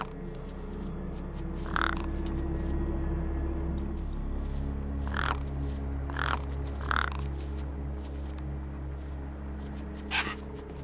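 Crows caw in the video game Beyond a Steel Sky: several harsh caws at irregular intervals, some doubled, over a steady low ambient drone, with no speech.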